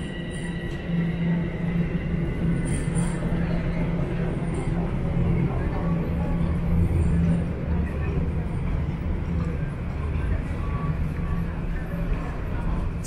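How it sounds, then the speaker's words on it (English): A Toronto subway train rumbles steadily into a station, a continuous low roar with faint metallic tones, while people talk over it. "And there's the train."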